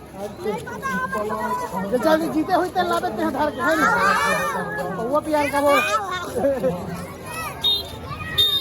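A busy Pola festival crowd in Mudhipar village with many children: dense, close chatter, shouting and excited kids' voices overlapping, loud and continuous throughout, with one nearby voice talking among the babble.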